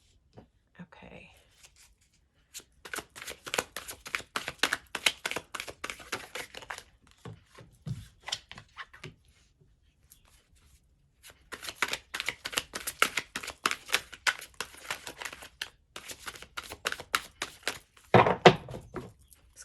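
Tarot cards being handled, shuffled and drawn, soft rapid riffling and flicking in two bursts separated by quiet, close and faint.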